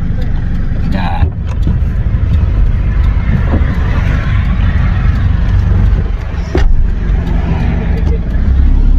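Road traffic in Riyadh heard from inside a moving car, a loud continuous engine and road rumble that holds steady throughout, with speech mixed in.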